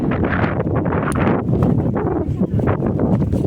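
Strong wind buffets the microphone in a constant, rough roar with gusty surges throughout, on a hilltop along the Dragon's Back trail in Hong Kong.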